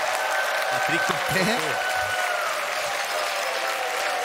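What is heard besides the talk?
audience applause welcoming performer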